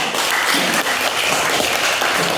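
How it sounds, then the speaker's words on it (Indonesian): A school class gives a round of applause for a student group, steady dense clapping from many hands throughout, fairly loud and close with no pause. "Tepuk tangan untuk kelompok 1."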